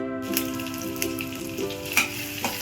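Green chillies and curry leaves sauté in sesame oil with a steady, close sizzle, broken by a few soft stirring scrapes.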